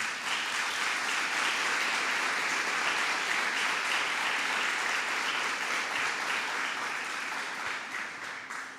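A crowd at a public event on zombie homes applauds legislators with a continuous, even round of clapping from many hands, heard at a moderate distance and tapering off toward the end.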